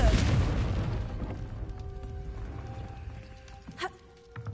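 The Confringo blasting spell explodes in the video game Hogwarts Legacy with a heavy boom that opens loud and rolls into a long decaying rumble, followed by a couple of small pops.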